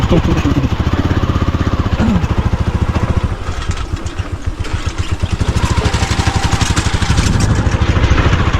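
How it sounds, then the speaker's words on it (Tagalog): A grass cutter runs steadily and close by in an overgrown yard with lemongrass and calamansi, its engine droning with a rough, buzzing clatter throughout, while faint voices talk beneath it. "Naka-grass cutter eh."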